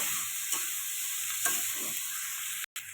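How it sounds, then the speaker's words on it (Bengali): Prawns and onions being stir-fried in a pan give a continuous loud sizzle, with a few scraping strokes of a spatula against the pan and a brief cut-out near the end. "ভালো করে কষিয়ে নেবো"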